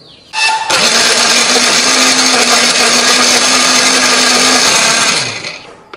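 A kitchen blender grinds chilies and coriander with a little water, a loud continuous whirring roar that starts abruptly, holds steady for several seconds, then winds down.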